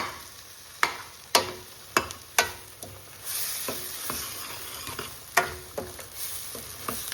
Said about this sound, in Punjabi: ਕੜਛੀ ਵੀ ਆਪਾਂ ਚਲਾਈ ਜਾਣੀ ਹੈ ਕੜਾਈ 'ਚ ਨਹੀਂ ਲੱਗਣ ਦੇਣਾ ਪੈਣਾ ਮਸਾਲਾ